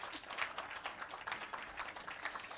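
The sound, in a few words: audience applause at an awards ceremony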